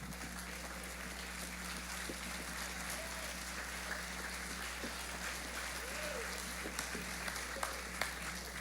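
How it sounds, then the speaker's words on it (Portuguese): Church congregation applauding, a steady wash of clapping heard at a distance under a low hum, with voices mixed in. "Eu quero que você dê um aplauso bem forte para Jesus."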